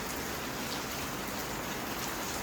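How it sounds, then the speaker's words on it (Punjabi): Steady rain pours down in a dense, even hiss, loud and continuous with no voices. "ਇਹ ਪੂਰੀ ਬਰਸਾਤ ਪੜ ਰਹੀ ਹੈ"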